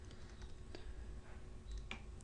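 Soft keystrokes on a computer keyboard tap out a short burst of typing, quiet and close, with a few sharper clicks near the end over faint room hum.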